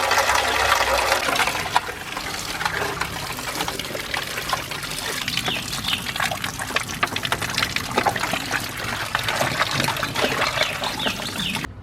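Water pours steadily over ten kilograms of rice for soaking ahead of a large mutton biryani. The rush is continuous and fairly loud and close, with no talk.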